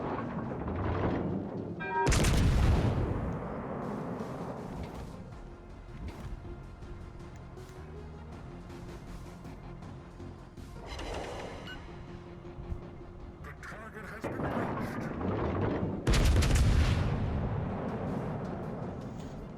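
Battleship-caliber guns fire in a naval video game, heavy booming blasts landing at intervals with long rumbling tails that fade out between salvos.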